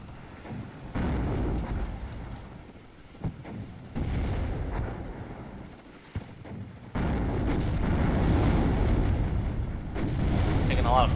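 Artillery fire in the real-time strategy game WARNO, with heavy rumbling blasts and sustained booming bursts that swell and fade across the clip, close and loud, while someone talks over them.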